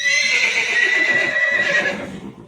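A North Indian horse offered for sale gives a loud, close whinny lasting about two seconds and tapering off, heard alone without talk.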